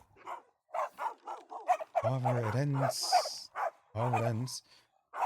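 Dogs in the Death Drive video game barking in short bursts and letting out whimpering whines, fairly close, with someone talking over and between the calls.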